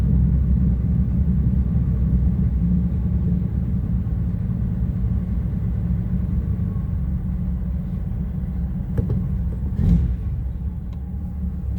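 An old vehicle's engine idles on the hand throttle, producing a steady low rumble with no change in pace, close by throughout.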